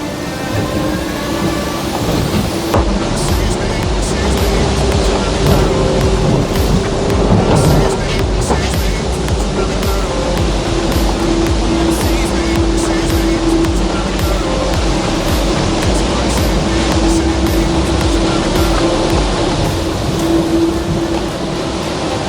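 Huge ocean waves at sea around a sailboat in heavy seas off the coast between Florida and Beaufort, North Carolina, roaring and crashing steadily for the whole stretch, loud and close, with wind noise and no talk.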